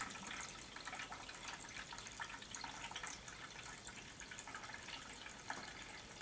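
Water with one-step cleaner runs into a home wine-making container, a faint, steady trickle and splash with small irregular drips and bubbles throughout, no talking.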